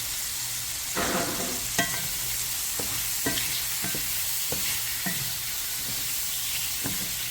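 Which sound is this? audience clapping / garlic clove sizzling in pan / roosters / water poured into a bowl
garlic clove sizzling in pan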